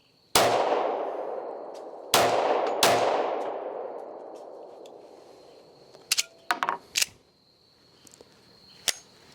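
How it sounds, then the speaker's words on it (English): Three loud, sharp gunshots from a Rock Island 10 mm 1911 pistol ring out at a target range, each with a long decaying echo, followed by fainter clicks and metallic clatter. "I was a little bit quick on the trigger on that one shot."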